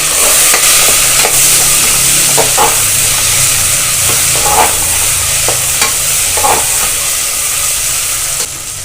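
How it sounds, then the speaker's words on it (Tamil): Onions frying in a pan for mutton curry, a loud continuous sizzle and hiss up close with occasional stirring scrapes, without talk. "வெங்காயம் வந்து கொஞ்சம் நல்லா ஃப்ரை ஆகணும்"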